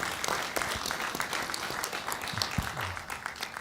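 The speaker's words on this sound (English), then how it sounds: "Let's give them a round of applause because they took a bus here." Town hall audience applauding students who arrived by bus, a fairly dense round of clapping at moderate distance with scattered louder claps and a few low thumps.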